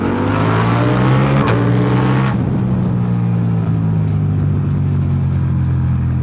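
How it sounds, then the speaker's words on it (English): A powerful, weight-stripped motorbike engine roars loudly up close, revving high then dropping back to a deep, steady idle rumble. "That bike sounds so ridiculous. This is a very powerful bike."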